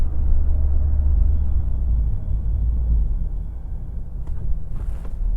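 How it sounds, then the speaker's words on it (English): A steady, deep exhaust rumble from a 2024 Ford Mustang GT Premium in quiet exhaust mode, idling and moving, fairly loud and continuous, with a brief brighter burst near the end. "you can still hear that exhaust even in its quiet mode exhaust"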